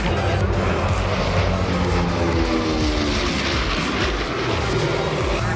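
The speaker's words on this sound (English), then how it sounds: "That is the B-25 Mitchell." A B-25 Mitchell bomber passes over an airshow show line, its engines a loud, steady broadband roar that holds evenly throughout without letup.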